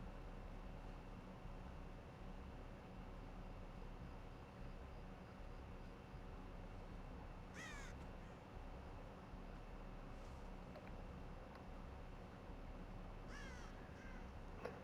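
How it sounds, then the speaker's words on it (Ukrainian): Two short bursts of crow caws in the video game Dead by Daylight, a few seconds apart, faint over a steady hiss of background noise. "Так, ворони, тихо"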